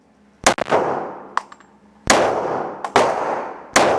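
Glock pistol shots fired at a target 7 yards away, about five loud, sharp reports spaced irregularly, each with a short ringing decay and no talk between them.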